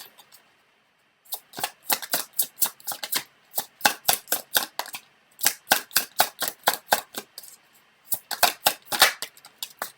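Tarot cards shuffled and drawn by hand, a long run of crisp, closely spaced riffling snaps in rhythmic bursts, loud and near, with short pauses between flurries.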